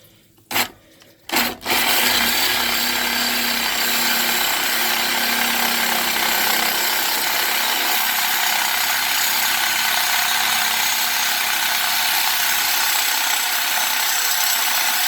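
Power tool with a worn blade cutting through material, a few short bursts and then a loud, continuous grinding rasp that holds steady and close, with a garden hose nearby.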